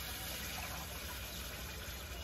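Water poured steadily from a mug into a pot of rice while cooking, a continuous close rushing splash that stays even and unbroken throughout.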